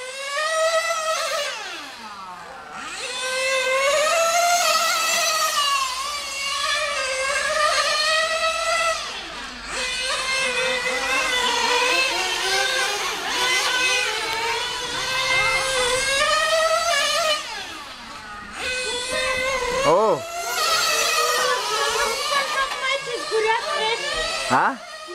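A nitro-powered 1/8 scale RC car's small engine screams loudly and close by, its whine rising and falling steadily as the car runs, with a few short breaks between passes.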